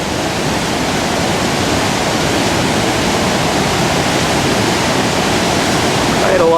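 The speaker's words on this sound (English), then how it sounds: "The water's just flowing right by those windows." Floodwater rushes past the cellar windows of a basement in Newmarket, New Hampshire during a great flood, a loud, steady roar of flowing water held close throughout, with no talk over it.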